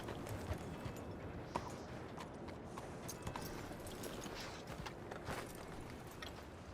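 Steady clip-clop of horse hooves walking on a trail in Red Dead Redemption II, a continuous even rhythm of close hoofbeats with a few sharper knocks and no talk.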